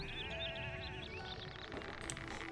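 Sheep bleat in a farming video game, a couple of wavering bleats near the start over a soft continuous background of game ambience, with no talking.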